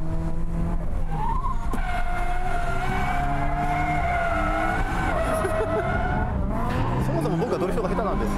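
A drifting car on a track, handbrake pulled, screeches with long wavering tire squeal over a steady engine roar, loud and close throughout, with a voice talking over it.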